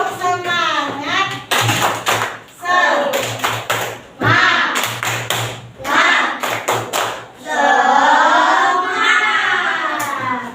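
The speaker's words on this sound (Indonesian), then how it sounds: "sebelum kita mengerjakan, kita tepuk semangat dulu ya" A class of children performs a rhythmic clapping cheer in the classroom, with patterned bursts of hand claps alternating with chanted voices, loud and close, repeating across about ten seconds.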